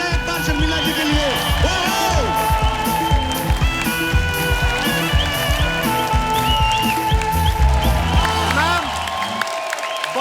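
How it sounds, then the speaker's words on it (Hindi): A TV show studio audience applauds and cheers for Sharmila Tagore, with dense, sustained clapping and crowd noise mixed with music and talk, fading out at the end. "जोरदार तालियां हो जाए एक बार शर्मिला जी के लिए।"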